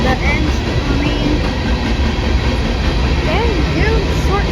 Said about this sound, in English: One of the shortest trains I've ever caught.